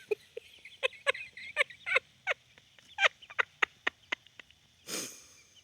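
Pet birds let out a quick run of sharp, clucking chirps in an uneven rhythm, close and clear, followed by a short breathy rustle near the end.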